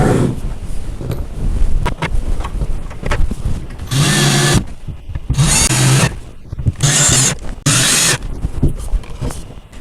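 Four loud bursts of a power drill driving screws into a white wooden Badger Basket doll bunk bed, each about half a second to a second long with short pauses, close up, with some handling noise between them.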